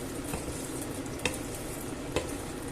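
Sausage simmering in a red wine and tomato sauce being stirred, a soft, low bubbling sizzle with a couple of brief spoon scrapes, close and quiet.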